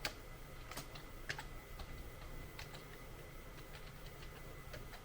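Password being typed on a computer keyboard while setting up a TP-Link AX5400 Omada access point: irregular light key clicks over a steady low hum, some strokes sharper than others, with no talking.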